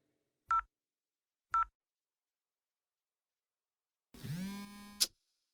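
A telephone being dialed: two short separate key tones, a pause, then a longer electronic tone ending in a sharp click, all close and clear against silence.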